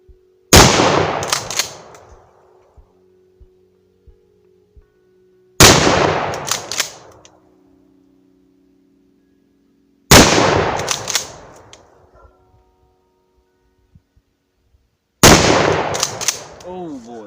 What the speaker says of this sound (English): Let's load it up. Shoot some buckshot at the target.